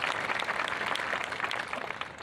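An audience at a middle school promotion ceremony applauds a student crossing the stage, a dense, even patter of many hands clapping that holds steady throughout at moderate volume.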